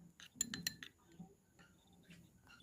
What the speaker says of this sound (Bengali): ভালো করে আমি কর্নফ্লাওয়ার আর ঘিটা ভালো করে মিশিয়ে নিয়ে